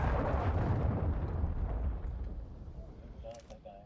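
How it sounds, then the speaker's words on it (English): A cruise missile strikes in Modern Warfare 2, a loud, broad rumbling blast that slowly decays over several seconds, with faint distant pops and a brief burst of gunfire near the end. "Friendly cruise missile inbound."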